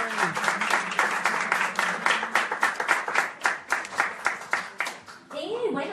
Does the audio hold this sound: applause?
yes